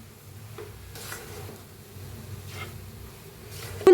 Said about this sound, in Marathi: दोन तीन मिनिट असं भाजून घ्यायचं हलवत राहायचं